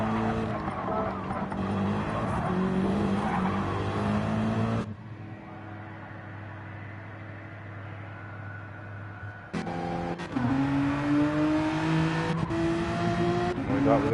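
Racing cars in Gran Turismo 7, engines revving and shifting with rising pitch and tire squeal, dropping to a quieter drone midway before surging again, with voices talking over it.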